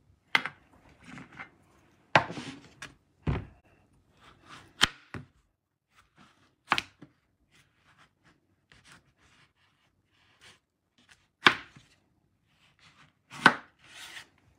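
A knife slices through a cantaloupe in a series of separate, sharp cuts, some coming in quick pairs, with quiet gaps between strokes and no voices.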